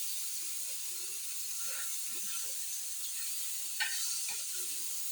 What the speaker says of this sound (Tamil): மீனுக்கு மசாலா போட்டு வறுத்துட்டு இருக்கேன்.